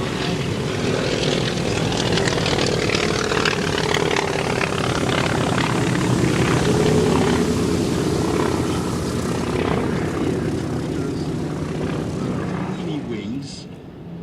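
Propeller-driven Russian aircraft flying at an airshow, a loud, steady broadband engine drone that fills the whole clip and eases slightly near the end.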